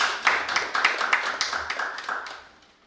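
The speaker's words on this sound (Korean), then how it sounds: "여러분 큰 박수로 맞아주십시오." Audience at an energy-transition strategy forum gives a short burst of scattered clapping to welcome a parliamentary committee chair to the podium, fairly near and fading out after about two seconds.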